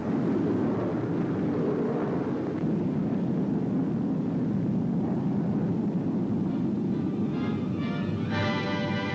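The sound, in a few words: P-80 jet fighter plane on a trial run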